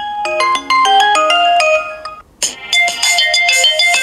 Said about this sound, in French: On va regarder un petit peu le son de la sonnerie du téléphone